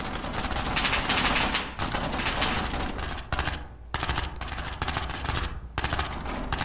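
Gunfire in SCP Pandemic sounds as dense, rapid automatic bursts, loud and continuous for most of the stretch. The firing breaks into a few short pauses and clustered volleys near the end.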